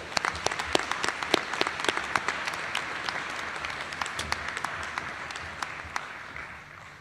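Applause rings out from the audience at a Washburn University School of Law commencement ceremony, steady clapping with sharp individual claps standing out, gradually fading toward the end.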